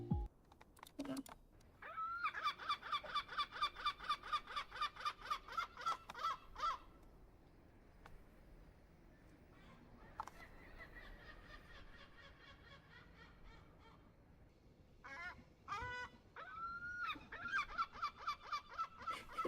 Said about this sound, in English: just me reacting to a whole bunch of seagull noises